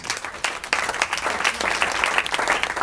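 A congregation claps for itself after thanks for its sacrifice, a dense, sustained round of applause that swells after a brief start.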